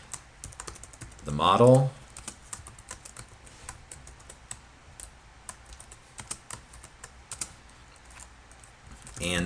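Computer keyboard typing while writing code: a rapid, irregular stream of clicks running throughout, with a brief spoken phrase near the start.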